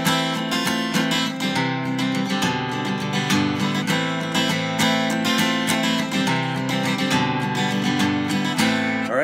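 A song plays as a full band recording, with steady strummed guitars, bass and drums, loud and continuous throughout and no talking over it.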